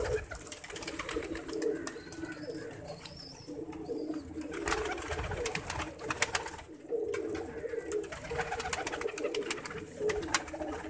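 Pigeons cooing steadily in a breeding loft among breeder birds, soft layered coos and low murmurs continuing through with a few brief rustles, moderately near and fairly quiet.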